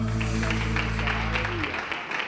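A church congregation claps together in a dense, steady patter over a sustained low musical tone that cuts out near the end.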